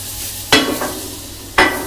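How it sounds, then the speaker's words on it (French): Shallots sizzle in butter in a pan, a steady frying hiss broken by two sharp stirring scrapes, close and fairly loud. "on a fait légèrement dorer les échalotes dans un peu de beurre"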